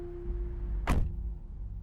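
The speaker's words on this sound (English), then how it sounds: "I then got in my car and made sure to lock my doors" A car door thuds shut once, close and fairly loud, over a steady low engine or cabin hum.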